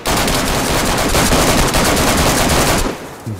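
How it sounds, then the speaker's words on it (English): Sustained rapid gunfire in the video game DayZ, loud dense automatic bursts rattling continuously for about three seconds before cutting off abruptly. "I can just hear the gunfire for his mic."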